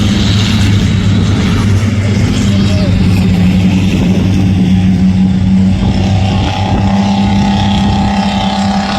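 An Austrian military personnel carrier drives past at a historical military vehicle event, giving a loud, steady, droning engine rumble with some wind buffeting on the microphone.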